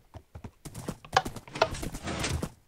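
A ridden horse's hooves clip-clopping, fairly close and moderately loud, in a quick, uneven run of beats with no talk.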